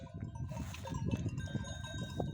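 Sheep and newborn twin lambs on a highland pasture bleating, several overlapping calls of varied pitch, faint and somewhat distant, with a continuous low rumble beneath.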